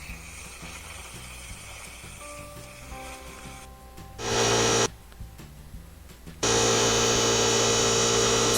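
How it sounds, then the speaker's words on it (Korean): An air compressor refills line pressure for a leak test on old house water and drain pipes, starting with a low mechanical hum and then running in two loud, steady bursts separated by a brief pause. "지금은 컴프레셔의 압을 다시 채워서 다시 검사를 해줍니다"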